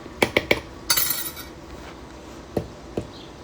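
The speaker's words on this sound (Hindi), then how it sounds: "अब इस सॉस में हम डालेंगे 1 चम्मच नमक" A metal spoon clinks against a pot or bowl while salt goes into a sauce: a few quick, sharp close taps, a brief scraping rattle, then two more isolated clinks in a quiet kitchen.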